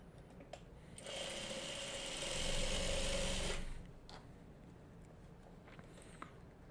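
Sewing machine stitching a Farmer's Wife quilt block, a soft whirring run of about three seconds that swells and stops, with faint handling knocks around it in a quiet room.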